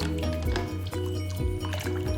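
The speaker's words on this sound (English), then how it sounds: "I'm gonna add a little bit more of the vinegar because I don't think it was that sour" Vinegar poured into pickling liquid for green apple and mango pickle, a steady close gurgling pour over a low tonal hum, brief and unbroken.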